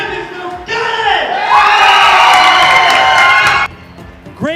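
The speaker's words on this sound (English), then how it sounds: "There's that loud round of applause." An esports championship crowd erupts into loud cheering, whooping and shouting for about three seconds, then quickly drops off to lighter noise.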